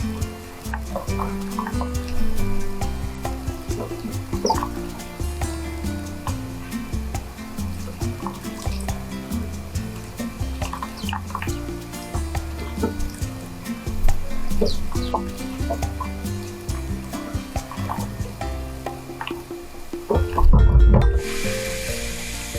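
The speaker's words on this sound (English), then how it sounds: "just playing a game to see who can splash the most water out." Sparrows bathe in a birdbath, splashing water about in repeated little bursts. Busy chirps and outdoor background noise surround them, and a louder flurry of splashing comes near the end.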